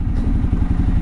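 A 13-year-old Ducati motorcycle engine running, a loud, close, rhythmic low-pitched throb with a steady pulse over a brief moment.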